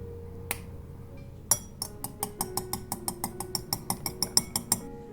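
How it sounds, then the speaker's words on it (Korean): A bowl of egg wash with salt and pepper is whisked in a quick, even run of bright metallic clinks against the bowl, about a dozen and a half strokes, close and clear. "계란물을 만드는 과정인데 색이 변할 때까지 그냥 계속 섞어줍니다"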